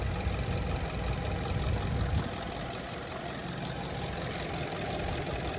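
A Hyundai Sonata DN8 engine idles with a steady, even hum and low rumble, louder for the first couple of seconds and then settling to a smooth, continuous drone.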